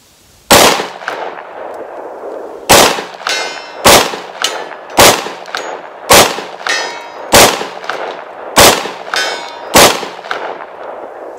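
A Springfield XDM Elite 10mm pistol fires nine loud, sharp shots outdoors, each with a ringing metallic tail. The shots come at a steady pace of roughly one per second after an opening pause, and no one speaks.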